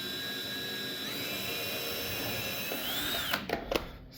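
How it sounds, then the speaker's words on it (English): A power drill whines steadily as it pre-drills screw holes in a wooden stair tread at an 1860s cottage, its pitch shifting mid-run before it stops, followed by a few knocks and clatters nearby. "So we'll pre-drill a couple holes there for screws"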